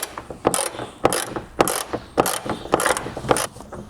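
Ratchet wrench tightening bolts while fitting a Ford Ranger FXR kit onto a composite hood: a quick, regular run of about seven close clicking strokes, each a crisp ratcheting burst.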